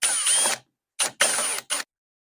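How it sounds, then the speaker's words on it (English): A power drill whines in four short bursts, close and loud, separated by brief silences, enlarging a hole in the dash of a John Deere 400 snowmobile. "we gotta drill a hole in the dash a little bit bigger."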